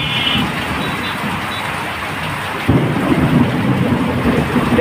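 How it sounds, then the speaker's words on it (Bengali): A heavy thunderstorm over Chittagong district brings dense rain and wind in a continuous loud roar, with a deep rumble of thunder swelling in partway through and lasting to the end. "প্রচুর পরিমাণে বৃষ্টি পড়তেছে এবং বাতাস বয়ে যাচ্ছে এবং বজ্রপাত পড়তেছে, বজ্রপাত হচ্ছে।"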